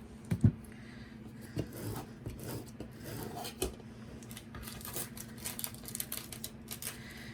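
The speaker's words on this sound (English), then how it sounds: "Give that a little scrape with my scraper" A metal scraper rubs over transfer tape on a paper pop-up Mickey birthday card, making repeated close, dry rasping strokes with a couple of sharp knocks near the start.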